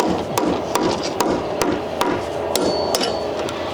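Hammer blows drive metal tie-downs into a planed timber house frame, a steady run of about nine sharp, close strikes roughly every half second over a constant background hum.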